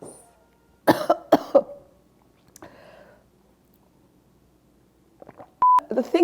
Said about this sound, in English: Oh my goodness, I cannot stop coughing.